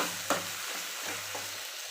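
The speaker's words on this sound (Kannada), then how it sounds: "ಇವಾಗ ನಾನು ಏನು ಮಾಡ್ತೀನಿ ಅಂದ್ರೆ, ಹೆಚ್ಚಿಟ್ಟಂಥ ಟೊಮೆಟೊನ ಹಾಕ್ತೀನಿ." Chopped tomato goes into onions frying in a pan for egg gravy and is stirred, giving a steady close sizzle with a couple of soft scraping stirs, with no talking.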